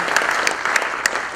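Audience clapping at a Google opening keynote at the 2014 Big Android BBQ, a brief burst of steady applause with a few sharper individual claps standing out.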